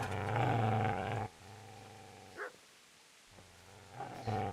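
Dog in the Kingdom Come Deliverance video game growling low and rumbling, with sustained snarls at the start and end and a short yelp in the middle, fairly quiet.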